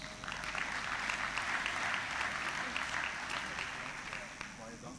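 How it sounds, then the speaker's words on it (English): Conference audience applauding steadily throughout, a dense wash of many hands clapping at moderate distance with no break. "A round of applause, please."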